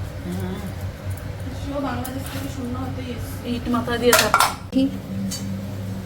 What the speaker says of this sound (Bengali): টমেটো কাটা হচ্ছে দেখো